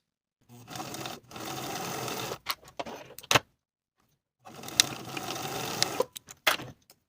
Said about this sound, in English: Sew the short edges with a 3/8 inch seam allowance